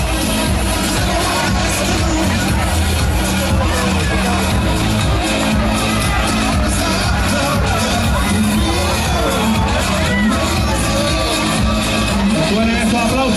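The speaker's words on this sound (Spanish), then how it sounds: "Un fuerte aplauso a todas ellas" A crowd at a town festival night in the plaza of Órgiva, loud sustained cheering, whooping, shouting and applause blending with loud music, dense and close.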